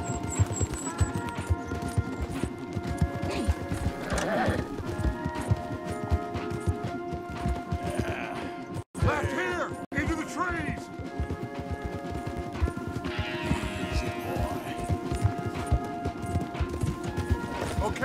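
Horses gallop in Red Dead Redemption 2, a steady run of hoofbeat clip-clops held throughout, mixed under game music and voices, with a brief cut to near silence midway and a faint whinny.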